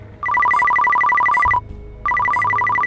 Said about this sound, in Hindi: नर्स शिमी का फोन बजा।